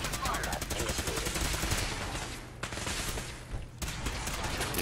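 Rapid automatic gunfire in Fallout 4, dense bursts of shots fired in a control room fight, loud and close with brief pauses between volleys, some voice activity mixed underneath.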